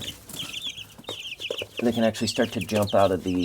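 Young chicks in a brooder cluck and peep close by in a busy, overlapping chatter that grows louder toward the end.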